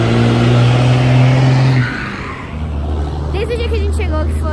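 Heavy car traffic in the town of Gramado rumbles and hums, engines idling and moving nearby, with a voice speaking over the traffic.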